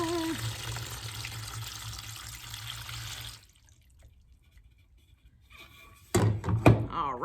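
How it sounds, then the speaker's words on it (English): A bowl of Orbeez water beads tipped into a colander: a watery rushing pour for a few seconds, a quiet pause, then a loud burst of splashing and clattering beads. "you're just gonna empty your bowl of Orbeez into your colander"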